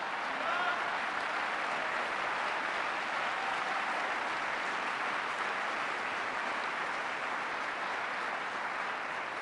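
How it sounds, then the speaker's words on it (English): Crowd applause at a speech, a dense, steady wash of clapping that fills the whole stretch at an even level without pause. "Clap for that, folks, because she deserves it."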